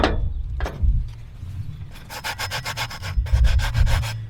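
Rhythmic scraping strokes of a sanding pad on metal, sparse at first then a fast steady series of rubbing passes, close and fairly loud over a low background rumble.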